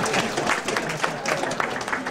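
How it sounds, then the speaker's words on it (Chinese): Audience applause at a legal studies seminar in Taiwan, a dense, steady wash of clapping that fills the whole short moment, close and fairly loud with no clear break. "拍手哟！"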